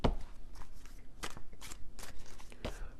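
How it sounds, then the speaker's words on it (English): A deck of tarot cards is shuffled close by, with soft, papery riffles and slaps in a few quiet bursts and no talking over them. "So I just shuffled this deck,"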